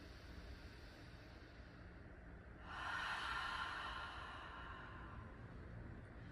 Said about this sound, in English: we draw the air in deeply through the nose and then release out of the mouth